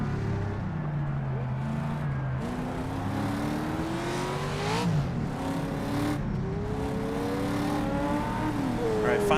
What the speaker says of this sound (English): I hear another car up there.